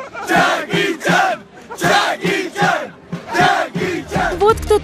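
A crowd of football fans at the World Cup chants "Jackie Chan" in loud, rhythmic bursts with short pauses between repetitions, greeting a Nizhny Novgorod businessman they mistook for the actor.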